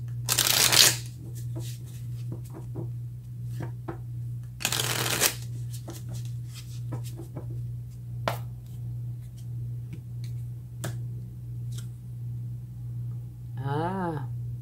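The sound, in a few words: shuffling tarot cards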